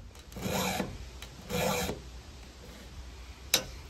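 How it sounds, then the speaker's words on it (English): A hand file sharpens a chainsaw chain in two slow, gritty rasping strokes, close and moderately loud, ending with a small metallic click. "I also like to rotate the file as I'm sharpening, so as not to wear down just one spot on the file"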